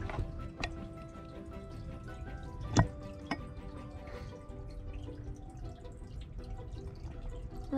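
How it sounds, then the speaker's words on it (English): Water goes in during a kids' kitchen science experiment at home, heard as faint, sparse drips and small splashes over a quiet room, with one brief louder splash partway through. "Now we are gonna put the water."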